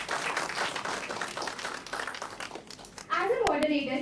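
Large conference audience applauding a panel moderator at a national law conference, dense steady clapping that thins out before a voice begins speaking over the end.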